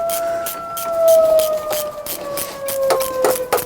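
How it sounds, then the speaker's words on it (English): A siren wails nearby, holding a loud, steady two-tone pitch that slowly sags, while intermittent clatter and knocks from mechanical work on a MerCruiser marine engine sound over it. "I don't know what the siren's for, but it's not for me."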